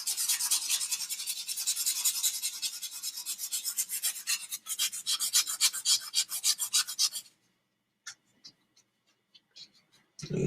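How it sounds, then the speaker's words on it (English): Sandpaper is rubbed back and forth over rock to scrape off dry glue, giving quick rhythmic rasping strokes for about seven seconds, followed by near silence broken by a few faint scratches and taps. "You see the sandpaper right there. It's got all that dry glue coming off onto it."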